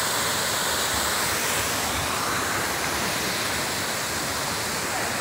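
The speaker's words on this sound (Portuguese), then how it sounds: "Cachoeira do Paraíso." A waterfall, Cachoeira do Paraíso in Guaiuba, Ceará, roars as a loud, steady broadband wash of falling water that holds for the whole stretch with no break.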